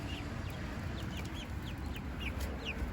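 Chickens cluck and chirp in short, repeated bursts close by, over a steady low background hum, with no talking.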